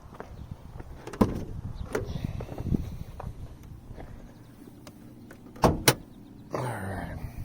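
Getting into a Mini Cooper: a few sharp clicks and thuds of door handling and seating, spaced apart amid quiet rustling, ending with a louder burst of shuffling movement close by.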